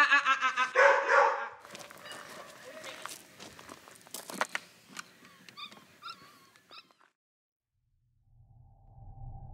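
Several dogs bark in short bursts, loudest at the start and then scattered and fainter, mixed with footsteps and other handling noises outdoors.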